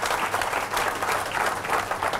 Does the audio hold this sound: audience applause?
yes